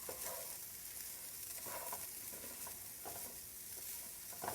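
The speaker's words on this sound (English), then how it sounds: "So you want to stir this constantly because you don't want to burn your rice" Rice being stirred and sautéed with spices in a hot pan for jeera rice, a steady sizzle with repeated scraping strokes of the spoon throughout, close and fairly quiet.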